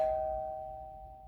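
A two-tone doorbell chime rings once as a clean, sustained pair of tones that fades steadily over about a second, heard alone with no voices.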